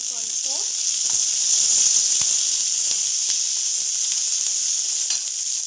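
Curry leaves and coriander leaves sizzle steadily in hot oil in a pan, a bright continuous hiss with small crackles and pops scattered throughout, close and fairly loud.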